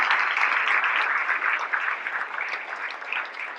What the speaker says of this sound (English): Please give you a round of applause for Columbus University.